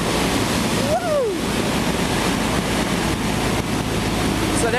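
A turbocharged Sonex AeroVee light airplane accelerates down the runway, a loud, steady roar heavy with rushing wind noise, with a brief rising tonal sweep as it gains speed.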